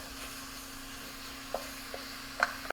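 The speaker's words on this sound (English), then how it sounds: "So the meat is sauteed now" Organic, hormone-free ground beef sautéing in a pan for homemade lasagna gives a steady low sizzle, with a few faint utensil clicks and one brief louder scrape near the end.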